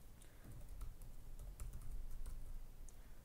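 Quiet typing on a computer keyboard during a programming lecture, scattered light key clicks over a low room hum, no voices.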